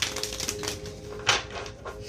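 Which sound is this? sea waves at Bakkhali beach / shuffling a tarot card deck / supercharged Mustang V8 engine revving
shuffling a tarot card deck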